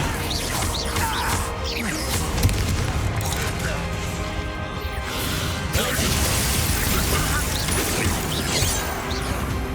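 Bombarda spell blasts crash and boom in Hogwarts Legacy during a tunnel battle against an army, with dense bursts of impacts, debris and whooshes layered under speech amid continuous combat noise.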